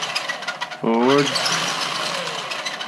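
A vintage Traxxas Hawk 2 RC car's electric motor whirs up with a rising whine as it drives forward, close and loud over steady background noise.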